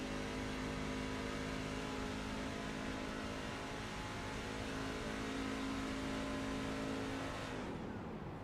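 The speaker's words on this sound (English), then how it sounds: "Hear him shut that truck right off." A simulated iRacing race truck's engine drones steadily in a Truck Series race at Atlanta, then cuts off abruptly near the end as the driver shuts it down to save fuel.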